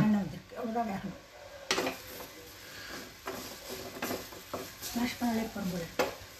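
Spoon stirring and mixing baby jackfruit dry curry ingredients in a pan, soft scraping and clinking with faint sizzling, under intermittent nearby talk.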